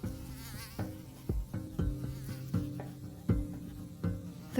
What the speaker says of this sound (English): Just get rid of these pesky mosquitoes.